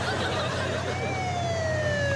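A police siren wails steadily in a French TV comedy scene, its rising and falling tone continuous and fairly loud over a low rumbling background.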